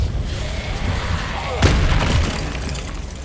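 A Depulso spell cast in the Hogwarts Legacy video game lands as a brief booming impact with a trailing burst over a constant noisy game background.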